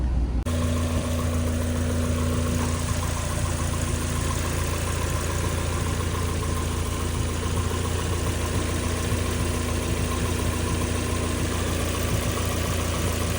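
A 31-year-old Mazda Miata engine running steadily at idle, a loud, even, continuous low hum with a faint regular knock that holds unchanged throughout, with no voices.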